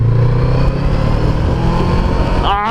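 FKM Glider 500S cruiser motorcycle engine under throttle, a loud close rumbling drone holding steady, with a brief rising rev at the end.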